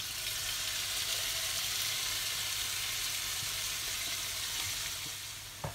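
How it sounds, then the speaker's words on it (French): Mushrooms sautéing in a pan in the juices of a veal escalope dish, a steady close sizzle and frying hiss that runs without a break, with a faint clink near the end. "Je fais revenir les champignons dedans."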